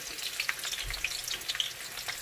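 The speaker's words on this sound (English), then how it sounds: "next, we're going to saute our onions" Onions sautéing in a hot pan for an asparagus and mushroom stir fry, a steady close sizzle with scattered crackles and pops throughout and no talking.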